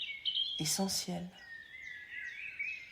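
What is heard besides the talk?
birdsong in nature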